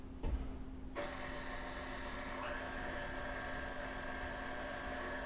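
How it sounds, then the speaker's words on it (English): Cornstarch is whisked into egg whites by an electric mixer. After a brief clunk, a steady, close mechanical whir runs continuously, with no talk. "we're just whisking this until we see the cornstarch dissolve"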